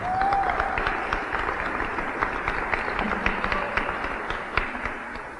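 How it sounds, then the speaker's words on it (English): Audience applause at a Cleveland LGBT Heritage Day celebration on Coming Out Day, a dense steady clapping from a crowd that carries on for the whole stretch with scattered sharper claps on top. "Give a round of applause for yourselves."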